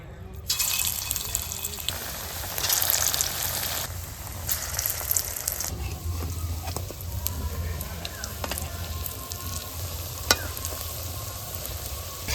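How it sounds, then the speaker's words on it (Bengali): Lentil and cauliflower fritters fry in hot mustard oil, giving a continuous close sizzle with occasional bubbling crackles and a few sharp clicks from stirring. "তেলটা গরম হয়ে গেছে, এখন আমি বড়াগুলো ভেজে নিচ্ছি।"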